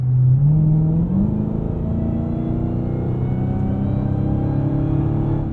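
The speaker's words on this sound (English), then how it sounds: "that sultry supercharger whine" A Dodge Challenger Hellcat Black Ghost, an 807-horsepower supercharged car, pulls at half throttle with a rising supercharger whine over a deep, steady engine rumble, close and loud in the cabin for several seconds.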